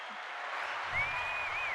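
A brief wash of congregation applause at a Sunday church service, steady and moderately distant with no talking over it.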